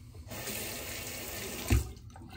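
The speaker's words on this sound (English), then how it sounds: "quick cold water rinse" Cold water runs steadily from a tap into a sink for a quick rinse, a faint, even splashing hiss with one brief louder splash near the end.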